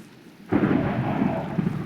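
A Minecraft thunderstorm: steady rain patters, then a deep rumble of thunder rolls in suddenly and loudly, continuing over the rainfall.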